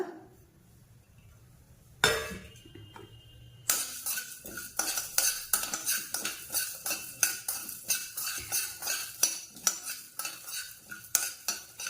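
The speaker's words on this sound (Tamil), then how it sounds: "இதில் மிளகு சீரகம் மல்லி பட்டை ஏலக்காய் கிராம்பு எல்லாத்தையும் சேர்த்துட்டு நல்லா வறுத்துக்கோங்க" Pepper, cumin, coriander, cinnamon, cardamom and cloves dry-roasted in a pan, heard as rapid rhythmic metal spatula scrapes and clinks against the pan after a quiet start, moderately close with a faint crackle.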